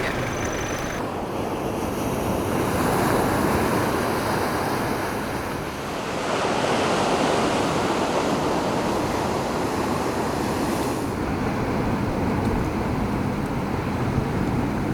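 Ocean surf rolls onto a beach in a loud, continuous wash, swelling and easing as one wave recedes near the middle. Wind buffets the microphone throughout.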